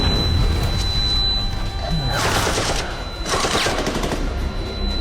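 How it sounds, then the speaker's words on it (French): Film battle scene with bursts of machine-gun fire and cannon blasts on a beach, loud rapid volleys in two dense clusters over a steady rumbling din. "Accompagné par le son des tirs et des canons résonnant à ses oreilles, Holm a été plongé dans l'hallucination d'un"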